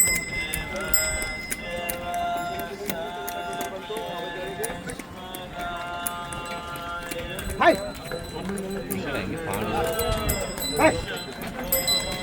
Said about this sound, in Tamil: அந்த கால ஸ்டைலில் இருக்கணுங்கிறதுக்காக மாட்டு வண்டி வச்சுருக்காங்க